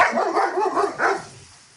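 A dog barks indoors during a home mat Pilates workout, a few quick muffled barks and yips close by, followed by fading quiet.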